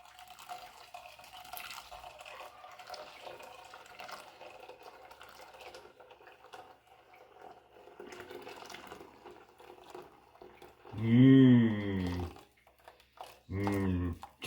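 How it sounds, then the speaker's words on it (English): Indistinct talk and faint clatter for several seconds, then a loud stream of boiling water pouring onto coffee in a vessel, pausing briefly before a second short pour. "pour onto it a quart of boiling water"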